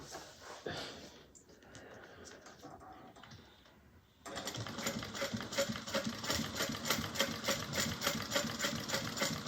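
A sewing machine stitches a JeroniMore bag, beginning after a few seconds of quiet handling and then running as a steady, rapid, close mechanical chatter to the end.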